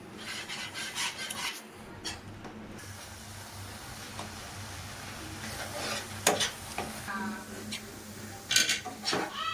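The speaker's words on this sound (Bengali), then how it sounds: "এইভাবে আমি অনবরত নাড়াচাড়া করে পুরো শুকিয়ে নেব" A thick Eid sweet mixture is stirred continuously in a pan to dry it out, with soft scraping and rasping and occasional clinks of the utensil, low and steady throughout with a brief lull early on.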